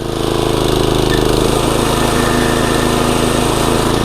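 A California Trimmer reel mower's engine revs under throttle with the drive disengaged, so the reel spins freely; a loud, steady, close motor drone runs throughout with no talking.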